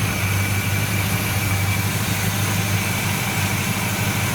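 A 1970 Buick Wildcat V8 with a Quadrajet carburetor idles steadily just after starting, a close, even low rumble with constant vibration and no talk over it.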